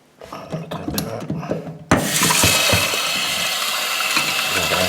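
Running tap water rinses tomato seeds in a strainer, beginning with a sudden loud rush at about two seconds. Before that come nearby handling clatters and rubbing.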